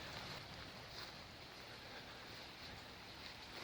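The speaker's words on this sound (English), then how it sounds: "here's the river running. This is awfully high." A high, fast-running river rushes in a continuous broadband roar, steady and somewhat faint, mixed with wind buffeting the microphone, and no voices.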